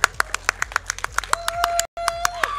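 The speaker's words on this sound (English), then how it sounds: "I'm sick of these like half claps." Sparse, uneven clapping from a small crowd at a live speedrun showcase event, a handful of separate claps spaced irregularly, with a steady tone running underneath and a brief dropout near the end.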